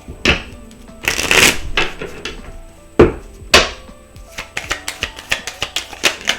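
A deck of oracle cards is shuffled by hand at close range, with several riffling bursts followed by a quick run of sharp, regular card snaps in a quiet room.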